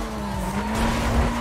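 A race car in a video game squealing its tires through a corner, a brief sustained screech over a humming engine tone.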